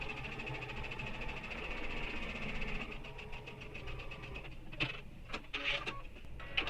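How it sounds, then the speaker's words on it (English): A sewing machine bastes along the edge of a backpack panel with a steady whirring hum, then breaks into rapid rhythmic stitching clicks, close and fairly quiet. "and baste right along that edge."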